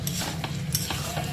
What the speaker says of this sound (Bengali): দিয়ে এখন দিয়ে দেবো রাজমাটা ভালো করে কষিয়ে নেব।